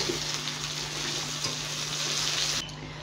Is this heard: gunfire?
no